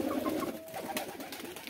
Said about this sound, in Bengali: কবুতর বসে আছে।